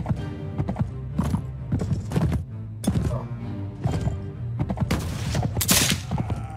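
Musket volley firing in the video game Mount and Blade: With Fire and Sword, sharp bursts of shots crackling over galloping horse hooves and neighing, with a few loud reports in a row near the end.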